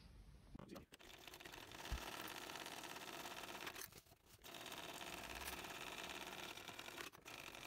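A domestic sewing machine stitches a bag seam in a close, continuous whirring run, broken by two short pauses where the stitching stops and restarts, with faint handling sounds between.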